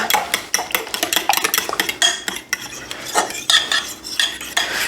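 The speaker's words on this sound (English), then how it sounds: "And I'll mix that together." Soda bread ingredients mixed together in a bowl, a rapid run of close scraping and clinking of a utensil against the bowl, irregular and busy, with no talking.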